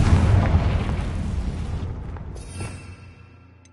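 Confringo blasting spell explosion in Hogwarts Legacy, a heavy booming blast with deep rumble that decays over a few seconds into a fading tail.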